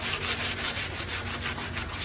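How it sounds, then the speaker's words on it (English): A 180-grit sanding block rubs back and forth over a scrap aluminum Cobra-style hood scoop, giving a rhythmic, close, raspy scraping in even strokes about four per second, with no talk. "Now I'm just going to take a sanding block"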